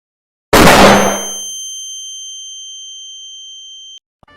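A mobile phone drops and strikes a hard floor with a single loud, sharp clatter and crack, leaving a thin metallic ring that fades over about three seconds.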